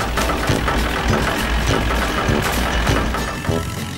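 A small cartoon tractor engine chugs close by with a rapid, uneven knocking rhythm and rattling vibration, no voices present.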